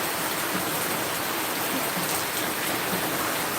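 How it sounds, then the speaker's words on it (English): Heavy rain pours steadily and densely on an outdoor morning, with a continuous loud hiss that stays constant and close throughout, with no voices. "It's heavy rain here."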